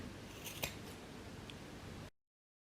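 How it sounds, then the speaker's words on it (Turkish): Scissors snip through macrame fringe cords on a drawstring bag in a brief close-up cut, with a crisp click near the start over soft handling noise, then silence. "Öncelikle bu saçak ipleri kesiyoruz"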